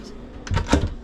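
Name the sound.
drawer or cupboard under camper bed steps opening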